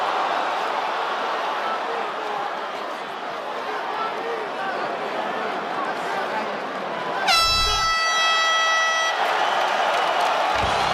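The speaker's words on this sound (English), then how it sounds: "Crowd shows its collective appreciation for Jim Miller and Bobby King Green" At UFC 300, an arena crowd roars and applauds after Jim Miller and Bobby King Green's fight, a dense, sustained wash of cheering. A loud air horn blast cuts through midway, and commentators talk over the noise.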